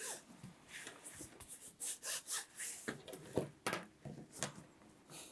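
Dry, close rubbing and scraping strokes of a bone folder pressed across paper to flatten it, uneven bursts of friction with short pauses between passes, no talking.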